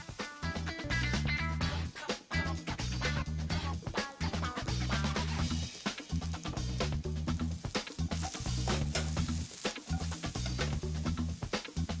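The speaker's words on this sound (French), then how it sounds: "Commencez par faire revenir votre poulet." Diced chicken sizzles steadily in a hot pan for risotto, a continuous close frying crackle with some rhythmic pulsing underneath.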